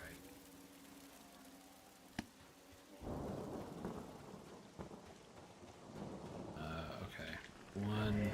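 A Blast of Hail spell cast in the fantasy game Monsters & Memories bursts in with a sudden broad crash, a stormy rumbling roar with rain-like patter that lasts several seconds, then swells again at the end, alongside other game sounds.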